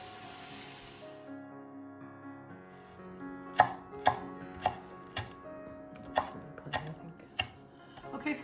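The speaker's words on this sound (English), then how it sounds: "I think about 3 green onions that I've chopped" A knife chops green onions on a board for potato salad: after a quiet start, about ten crisp, close knocks land at a fairly steady, unhurried rhythm.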